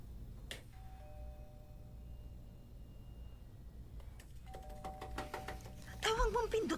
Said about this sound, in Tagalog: Huwag mong pindutin ng doorbell.